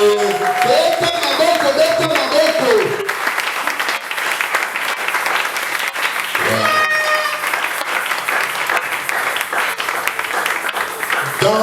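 A church congregation at a Sunday service applauds in a loud, sustained burst of clapping that fills the room, mixed with voices calling out and singing over it throughout.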